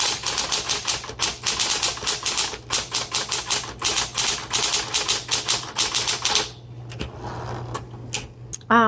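Fast typing on a 1970s Smith Corona Electra 120 electric typewriter rattles along over a constant motor hum, then stops abruptly, leaving the hum and a few faint clicks.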